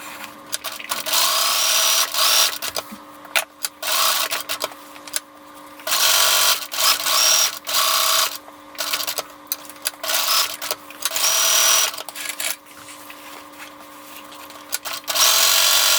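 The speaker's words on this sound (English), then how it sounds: "this is a lot of layers that you're going to be sewing together" A sewing machine stitches through many thick fabric layers of a casserole carrier, its fast mechanical whirring running in loud bursts that stop and restart several times, close up.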